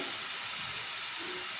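Onions fry for gongura curry with a dense, even sizzle that holds constant and close throughout, with no voices over it.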